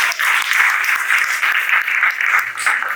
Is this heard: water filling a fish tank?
no